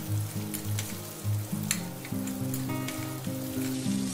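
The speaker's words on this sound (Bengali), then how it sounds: "একসাথে সব একটু ভেজে নেব।" Onion, garlic and green chillies frying together in a pan, a continuous close sizzle with occasional stirring scrapes; a steady tonal hum runs underneath and no one speaks.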